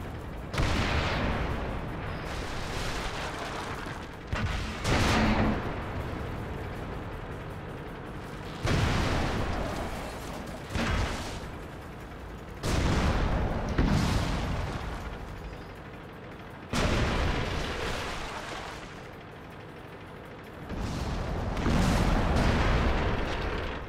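Heavy tank cannon shots in World of Tanks boom out at irregular intervals, each a loud broadband blast with a rolling decay, over a constant battle rumble.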